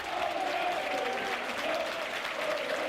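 Football crowd at Burnley versus Watford, a sustained massed chant in the stands aimed at the referee, loud and continuous with rhythmic pulsing voices throughout.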